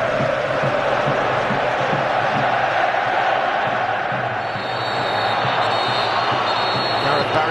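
A huge Wembley stadium crowd at the England v Croatia football match roars continuously and loudly, a dense wall of chanting and cheering that barely wavers.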